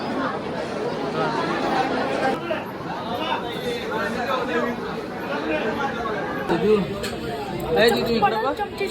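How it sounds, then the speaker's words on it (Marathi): Dense crowd chatter in a packed darshan queue at a temple, a continuous wash of many overlapping voices close by, with louder nearby talk rising above the hubbub. "जाम गर्दी."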